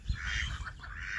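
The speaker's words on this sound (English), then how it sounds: "When I come out, I have to count my 4 white ducks, and then George and Martha, and then 3" Farm ducks quack in short, repeated nasal calls, close and fairly quiet, with several calls overlapping outdoors.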